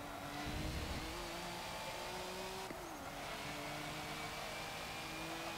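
A turbocharged racing car in Forza Motorsport 7 holds a steady high-revving engine drone with pitch shifting through gear changes, loud and continuous, with no talking over it.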